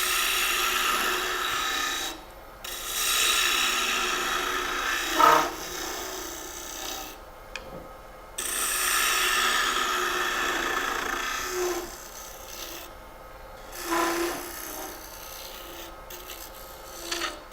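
Wood scraping on a lathe while an ornament is hollowed out: rough, rasping bursts of the tool against spinning wood, several strokes separated by short pauses, close and fairly loud.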